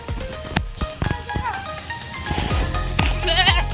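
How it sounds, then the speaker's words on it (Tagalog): Goat bleating on a farm in Batangas, several wavering calls near the end, loud and close, with people talking and other farm noise around it. "Kausapin ko muna yung kambing."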